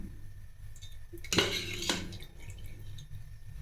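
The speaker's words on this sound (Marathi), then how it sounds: "गॅसवरती कढई ठेवला आहे गरम करण्यासाठी।" A metal kadhai is set down on a gas stove to heat, giving one brief, close clank with a short metallic rattle over a quiet kitchen background.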